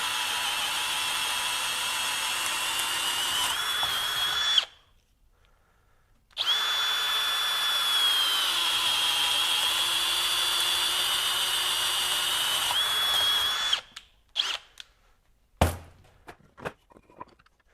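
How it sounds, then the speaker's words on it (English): A Hercules HCB92B 20V cordless hammer drill whines steadily at speed 1, running in two long bursts separated by a short silence, then gives way to a few scattered knocks and thuds. "So go to speed 1."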